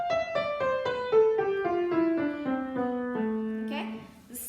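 A piano plays a descending A melodic minor scale, eight notes stepping down at an even pace, each note ringing and overlapping the next, close and clear with no talking.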